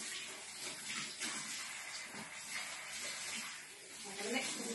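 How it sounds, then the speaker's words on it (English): Running tap water splashing over hands being washed in a home kitchen while making bread pudding, a steady soft hiss throughout, fairly faint and continuous. "I'm just going to wash my hands again."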